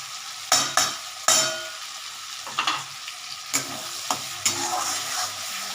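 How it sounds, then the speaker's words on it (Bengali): Spice masala with kasuri methi sizzles in a hot pan for a raw banana kofta curry. A spatula scrapes and clacks against the pan in several sharp, separate strokes over a steady close frying hiss, with no talking. "মশলাটা কষানো হয়ে গেছে"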